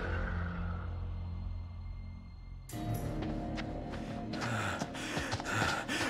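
A video game character gasps for breath in a tense horror game scene, sharp inhalations standing out close and alone over a low rumbling ambience that thickens after the opening seconds.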